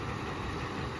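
An engine with Coca-Cola and Mentos inside runs at a steady idle, a loud continuous low rumble with a constant broadband roar.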